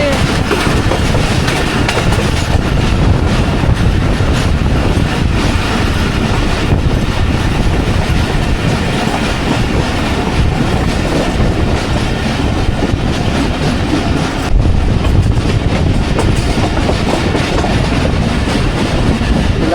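Pakistan Express runs into Lala Musa with a loud, continuous roar and rumble of wheels on rail, a steady rhythmic clatter close by, unbroken for the whole stretch.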